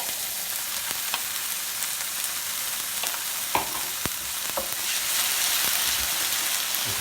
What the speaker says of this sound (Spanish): ya tenemos la verdura más o menos sofrita. Vamos a echar el tomate